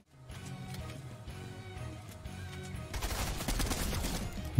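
Gunfire in the video game Fortnite, rapid bursts of shots over a dense game soundscape that grow louder and busier toward the end, with no talking.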